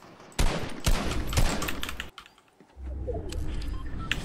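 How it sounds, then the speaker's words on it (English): Fortnite gunfire comes in a few sharp bursts of shots at mid distance during the first two seconds, then drops away to a low rumble and quieter game ambience. "There's other people shooting."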